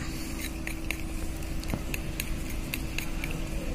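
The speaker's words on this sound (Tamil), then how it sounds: "நல்லா மிக்ஸ் பண்ண போறோம்" A coconut oil mixture stirred in a small bowl, with a steady run of light scraping clicks from a utensil over a constant kitchen hiss and no talk.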